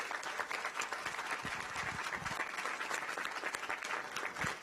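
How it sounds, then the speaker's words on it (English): Steady applause at a county council session, many hands clapping in an even wash at moderate distance, with a few sharper claps standing out. "Let's give him one more round of applause."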